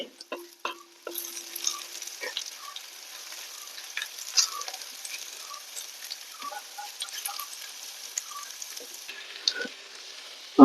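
Onions fry and brown in a pan for a kappa and beef dish, a quiet, thin sizzle broken by intermittent spoon scrapes and small pops, close and fairly soft.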